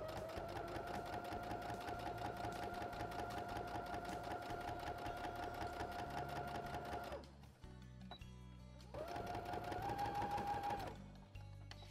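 Sewing machine stitching a back-tack on a fabric travel pouch, a steady close whirring hum that runs continuously, pauses briefly, then resumes for a short final burst.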